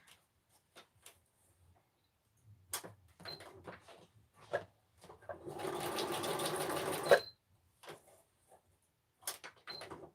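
A sewing machine stitching across sequins on a craft project runs in one steady burst of about two seconds, close and clear, between scattered small handling knocks and clicks.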